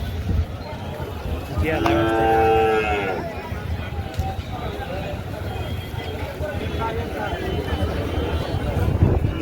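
Murrah buffaloes lowing amid a noisy crowd at the Sangola buffalo market, with one loud drawn-out moo early on and a busy babble of voices and movement throughout.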